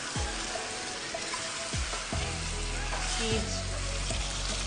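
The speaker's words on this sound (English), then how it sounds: "We're going to now proceed to put our cooked meat into the pot. Stir." Cooked meat goes into a pot for Edika Ikong soup and is stirred, giving a soft sizzle with several distinct scraping and clinking knocks of the utensil against the pot.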